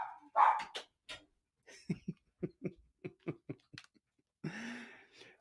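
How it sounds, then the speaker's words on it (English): A pet dog makes a growling bark, with a loud opening yelp followed by a run of short rhythmic grumbling barks and a final drawn-out growl, close and alone. "my dog, he does this kind of growl bark thing."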